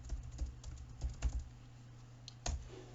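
Python code for a Raspberry Pi being typed on a computer keyboard: close, quiet bursts of key taps in irregular clusters, with a pause in the middle and a couple of final sharper keystrokes, no talking over it.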